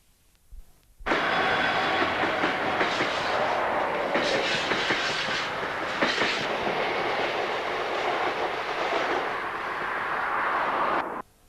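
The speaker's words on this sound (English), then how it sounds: "The oil train is soon followed by coal empties, bound for the port of Immingham." A freight train of empty coal wagons bound for the Port of Immingham rolls past close by, a loud, steady rumble and clatter that begins abruptly and holds for about ten seconds before cutting off.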